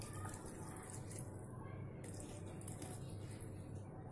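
Water poured into a ground peanut and coconut chutney mixture with curry leaves, mustard seeds, dried chillies, mustard oil and salt, giving a steady close splashing wash that runs through the whole stretch without talk.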